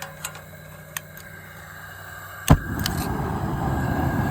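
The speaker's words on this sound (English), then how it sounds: "gas is coming out." A gas burner set up to boil water for a whitetail deer euro mount is turned on, a click followed by a steady broadband hiss of flowing gas that continues to the end, close and moderately loud.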